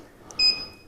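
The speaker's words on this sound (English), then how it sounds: "If you're wondering what the beeping is, it's not a bomb that's about to go off. That's just the heat machine." A heat machine used for metal 3D printing beeps on reaching temperature: a single short, bright electronic tone lasting about a quarter second in a quiet room.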